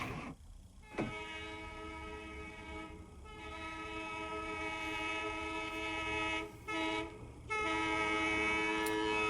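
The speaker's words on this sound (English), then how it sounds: "It'd be cool if they kept those electric trains running." A 1941 Indiana electric interurban train rumbles past steadily with a sustained multi-tone horn blaring over it, briefly cutting out twice before resuming loudly.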